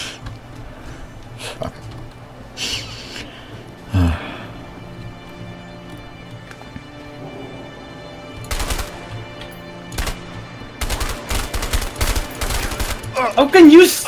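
Gunfire in the video game A Way Out: scattered single shots at irregular intervals, then quicker bursts of shots near the end, loud and close.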